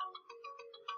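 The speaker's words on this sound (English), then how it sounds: "Sorry about that phone call." A phone ringtone plays faint and alone, a quick repeating electronic melody of short tonal pulses.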